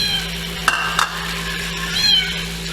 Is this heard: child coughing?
no